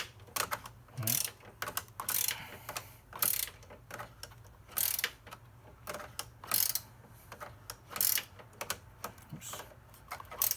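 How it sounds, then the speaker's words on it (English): A hand ratchet tightens a long bolt on a GWR front strut bar being fitted to an ND Miata, giving bursts of rapid pawl clicks in an irregular rhythm, close and crisp. "I was tightening it down already, because this thing is so long"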